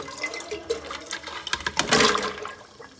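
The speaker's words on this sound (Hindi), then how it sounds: "इस पानी में डाल देते हैं।" Cut pieces go into a pot of water for boiling in a kitchen, with close splashes and sloshing that build to a loud splash partway through, then settle.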